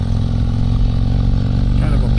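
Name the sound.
2022 Harley-Davidson Street Glide Special exhaust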